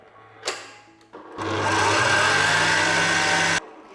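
An electric mixer whirs through keto red velvet cupcake batter with oil added, a steady, fairly loud motor drone that runs about two seconds after a brief clatter and then cuts off.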